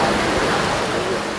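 Floodwater from a stream swollen by days of heavy rain in Yuli, Hualien rushes past in a loud, steady roar of broad, unbroken noise.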